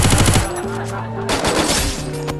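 Gunfire in the video game Free Fire comes in loud, rapid bursts near the start, then trails into further shots mixed with other game sounds.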